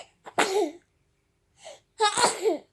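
Two loud sneezes up close, each preceded by a short inhaled breath, with a brief quiet gap between them.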